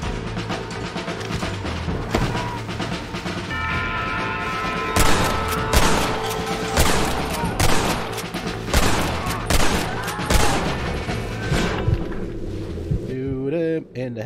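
Gunfire in Red Dead Redemption, with scattered volleys of shots breaking out over a dense bed of game music and ambience, loudest in the middle stretch.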